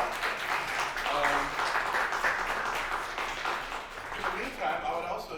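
An audience claps steadily for a presenter at a community event, a continuous moderately loud patter of many hands with some talk mixed in over it.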